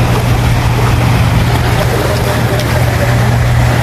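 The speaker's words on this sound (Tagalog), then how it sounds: "Laki pa naman bangka nung dumaan eh." A large boat speeding past on open water, its steady engine drone mixed with a constant broadband wash of churning waves, loud and continuous throughout.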